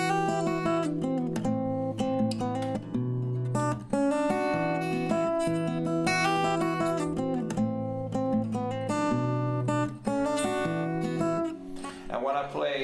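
A song is played on an acoustic guitar at standard tempo, with steady rhythmic strummed chords and picked bass notes that flow continuously and close-up with no voice.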